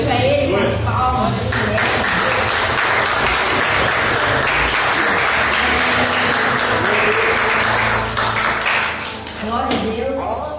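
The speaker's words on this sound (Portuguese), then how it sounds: "glorifica a Ele, com as palmas" A church congregation at a Baptist communion service claps together in a loud, sustained, rhythmic burst that fades slightly near the end.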